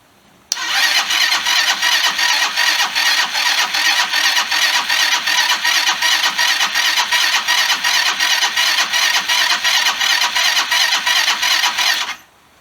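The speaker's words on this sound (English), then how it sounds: "the motor is installed and I think we're ready for our first test fire" Chinese GY6 scooter engine, freshly rebuilt, fires on its first starter-button test and settles straight into a loud, rapid, evenly pulsing idle that runs for about eleven seconds, then cuts off abruptly.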